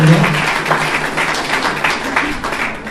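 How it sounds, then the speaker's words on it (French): Conference audience applauding the speakers at a talk in Nice: a dense, steady patter of many hands clapping in a hall, moderately loud and sustained for a few seconds without talking. "On peut les applaudir."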